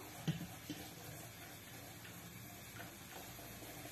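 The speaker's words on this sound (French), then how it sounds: "je vais verser doucement dans mes œufs" Hot liquid poured slowly into eggs: a faint, steady trickling wash over low background noise, alone, with a small knock at the start.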